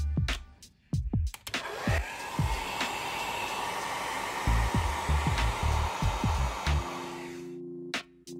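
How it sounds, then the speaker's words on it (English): An ordinary hair dryer blows steadily while warming the display of an Apple Watch Series 3 for screen replacement, a constant loud whoosh with clicks and taps around its start and end. "warm up the surface of the display with a regular hairdryer"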